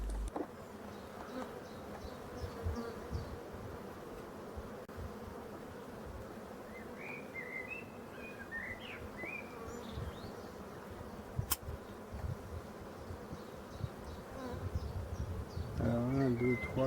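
Black honeybees buzz in a steady, close drone at a hive throughout, with a brief sharp click and some handling noise toward the end.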